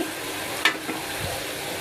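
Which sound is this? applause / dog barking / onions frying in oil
onions frying in oil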